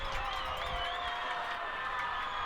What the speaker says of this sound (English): This crowd is getting very loud